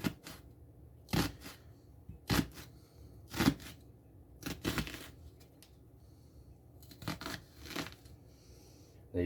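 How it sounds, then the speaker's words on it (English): Knife slicing across a sideways-turned onion on a board for beef stew, giving about eight crisp, separate chopping strokes at irregular intervals, close and fairly loud with quiet gaps between. "Now just cut across."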